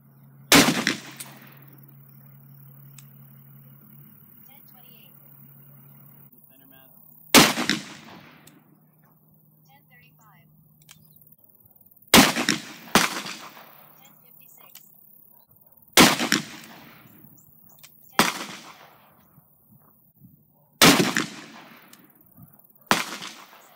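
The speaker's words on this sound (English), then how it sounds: "The firearm for today's test will be the Smith & Wesson Model 629," A Smith & Wesson Model 629 revolver with a 3-inch barrel fires .44 Magnum Speer Gold Dot hollow point rounds, about eight loud sharp shots spaced a few seconds apart, each followed by a short echoing tail.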